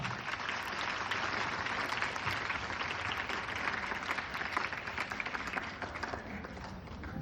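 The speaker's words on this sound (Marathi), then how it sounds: "जोरात टाळ्या वाजवा" A crowd at a Marathi-medium school event in Kalyan applauds steadily, dense clapping sustained throughout at moderate distance.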